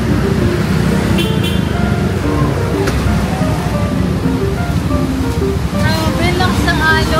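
Strong ocean waves at Kuta Beach, Bali, a continuous loud roar of surf close by, mixed with passing traffic noise and occasional voices of people talking in the background.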